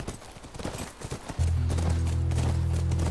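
A horse's hooves clip-clop in The Last of Us Remastered, a steady rhythmic trot that starts midway and continues under a low engine-like drone and faint game noise.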